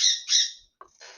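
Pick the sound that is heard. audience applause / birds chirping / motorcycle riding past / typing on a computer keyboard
birds chirping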